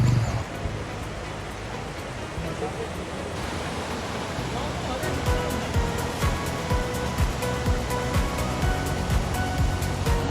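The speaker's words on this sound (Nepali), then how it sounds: "खोला चाहिँ दामी छ फेरि दामी खोला छ" The Dami Khola, a river on the Aama Yangri trek in Nepal, flows in a constant close rushing wash with faint rhythmic pulses of water throughout.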